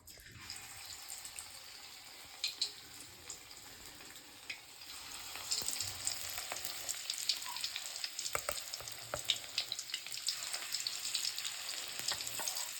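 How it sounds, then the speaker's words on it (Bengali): Mustard flower fritters sizzle in hot oil in a wok, a steady, fairly quiet crackle that grows a little busier as more batter goes in, with no voices. "এবার এর মধ্যে একটু একটু করে বড়া দিয়ে দেবো।"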